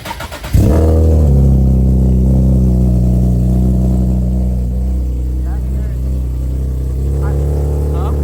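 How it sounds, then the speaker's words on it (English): A turbocharged Nissan 350Z engine with exhaust leaks fires up and settles into a loud, rumbling idle with a raspy, ticking exhaust note, close to the listener. "Bro, I have hella exhaust leaks."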